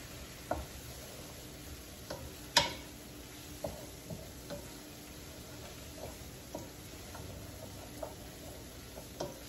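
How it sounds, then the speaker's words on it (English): Onions and garlic are stirred in a pan for a chicken and mushroom dish, with faint scraping strokes and occasional light knocks over a quiet sizzle. "Give that a good stir, mix in with those onions and the garlic."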